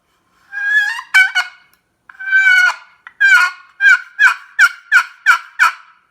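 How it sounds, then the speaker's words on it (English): A homemade turkey hunting call produces loud, close hen yelps: a few drawn-out notes, then a quick run of about eight evenly spaced two-note yelps with a whining rollover, with no voices. "it just gets that two-note hen yelp fantastic"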